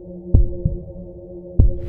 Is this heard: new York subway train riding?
no